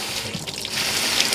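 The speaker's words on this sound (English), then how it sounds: "Let me get something to wash my board with and rinse off my knife real good." Water from a kitchen sink tap runs steadily while a knife and cutting board are rinsed after chopping vegetables and fruit; a close, continuous splashing hiss with no speech.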